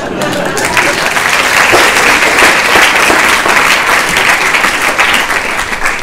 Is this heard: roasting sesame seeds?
no